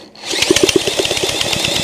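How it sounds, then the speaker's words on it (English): A power drill cranks a seized engine for a thumb-over-the-spark-plug-hole compression test, a loud steady whirring with rapid rhythmic chugging pulses of the turning motor. "Let's give it the old reach around compression test. I got the drill and my thumb over the hole."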